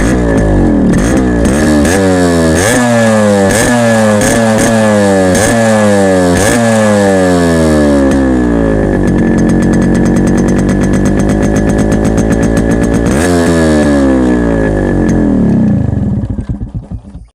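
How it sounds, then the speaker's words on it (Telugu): Yamaha RX100 two-stroke motorcycle exhaust, very loud and close, revved repeatedly in rising sweeps, then held at high revs with a raspy buzz before dying away at the end, with no talking. "ఇప్పుడు నా బైక్ RX 100ది ఎగ్జాస్ట్ నోట్ వినిపిస్తారని చూద్దాం."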